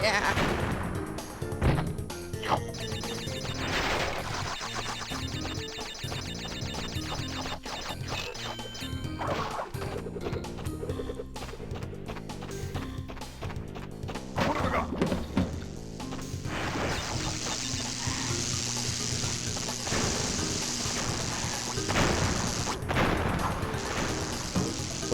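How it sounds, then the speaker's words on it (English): Loud blasts and crashes from small objects exploding in the Crash Bandicoot video game, dense and repeated under busy game music and effects throughout. "With how loud the explosions on those tiny things are, it, like, makes you think you're walking into some kind of war zone"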